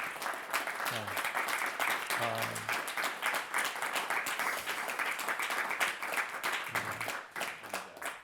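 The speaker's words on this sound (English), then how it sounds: "if we could give a round of applause to Willie Blackburn" A community audience gives a full round of applause for Willie Blackburn, steady and thick throughout, with faint voices briefly surfacing within it.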